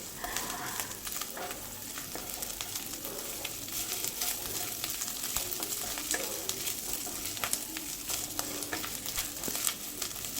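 Gobindobhog rice frying in ghee in a pan while being stirred, giving a steady close sizzle broken by frequent scraping strokes of the spoon, with no voices.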